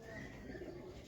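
Pigeons coo softly in a brief, faint burst, low murmuring calls close by with no talk.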